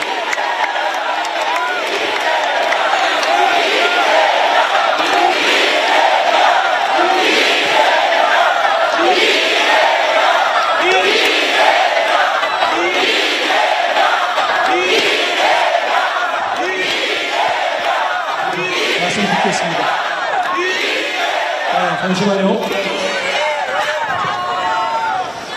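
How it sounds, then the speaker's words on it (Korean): A large outdoor crowd at a Democratic Party candlelight political rally roars and claps continuously, a dense, loud wall of cheering and applause with scattered shouts throughout. "큰 함성과 박수로 이재명 대표님께 힘을 주십시오"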